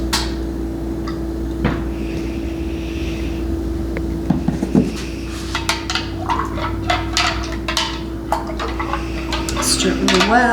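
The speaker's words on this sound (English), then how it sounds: "Stir it really well" Yogurt mixture is stirred in a jar, with a run of quick clinks and scrapes of a utensil against the glass over a low steady hum, and a brief voice near the end.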